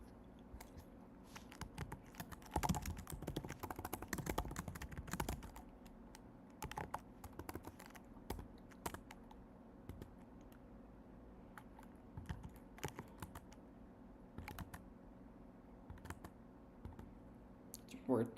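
Typing and tab presses on a computer keyboard while building a nutrient tracker, a close, quiet run of irregular key clicks in bursts and scattered single taps, with people talking.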